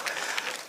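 Applause from an audience at a county town hall security meeting, a brief, dense burst of clapping filling the hall with no voices over it.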